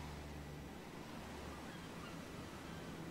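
Steady sea surf from the video game Uncharted: Drake's Fortune, a continuous broadband wash of waves with low rumbling undertones, moderately loud and unbroken throughout, with no voices present.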